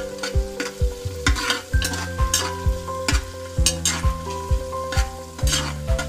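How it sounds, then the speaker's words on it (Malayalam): Crushed green chillies fry in a pan for vegetable pulao, crackling under a rhythmic series of spoon strikes and scrapes against the pan, close and evenly spaced, with a steady sizzle beneath. "ഇതൊന്ന് നന്നായിട്ടൊന്ന് ഫ്രൈ ചെയ്ത് കൊടുക്കുക."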